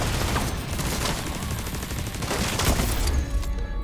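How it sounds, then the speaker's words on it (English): Mortar and gunfire in The Division 2 shooter game, a dense barrage of rapid overlapping blasts and booms, loud and continuous without pause. "Is he really shooting consecutive mortars now?"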